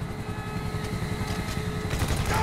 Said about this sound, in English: I'm bringing the chopper back around.